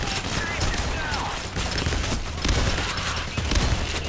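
Gunfire rattles continuously in the video game PAYDAY: The Heist, a dense, loud barrage of shots and impacts with no pause across the whole stretch.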